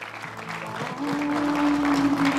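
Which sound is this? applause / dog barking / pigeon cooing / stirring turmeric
applause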